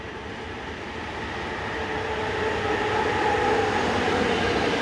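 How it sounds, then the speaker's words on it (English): A Class 145 electric locomotive hauls a mixed freight train on a busy German mainline between Fulda and Bad Hersfeld, its steady rolling rumble and wheel noise building gradually in loudness as it passes close by. "145046 heads south at the head of train EZ 51601 from Leipzig to Mannheim mixed freight"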